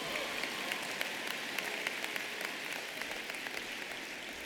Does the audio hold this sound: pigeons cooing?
no